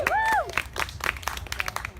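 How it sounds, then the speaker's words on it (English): A comedy-show audience claps and cheers in a brief, moderately loud burst that fades quickly, with a voice briefly heard at the start. "Give another round of applause to Mallory."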